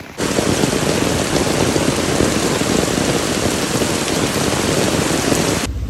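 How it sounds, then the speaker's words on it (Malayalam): Heavy rain pouring down outdoors on a walk, a dense, loud, unbroken hiss of drops hitting surfaces for several seconds with no voices. "നല്ല മഴയായിരുന്നു കുടയൊന്നും പിടിച്ചിട്ട് ഒരു കാര്യമില്ല ഫുള്ള് നനഞ്ഞിട്ടാണ് നടക്കുന്നത്"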